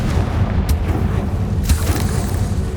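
A Confringo blasting spell explosion in the video game Hogwarts Legacy, a loud, continuous deep boom and rumble with a couple of sharp cracks on top, close and forceful throughout.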